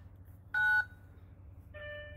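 A short electronic phone keypad tone as 9 is pressed to accept a collect call from a detention center, followed moments later by a second, different tone, both clear against faint background hum.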